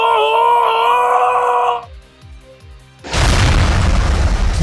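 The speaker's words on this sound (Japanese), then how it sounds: "ドーンと夜明け前の庭園に轟く激しい墜落音。" A sudden loud, sustained crash-boom erupts in the DeepOne visual novel game after a sustained musical tone and a few soft thuds, filling the rest of the moment with a heavy roaring impact.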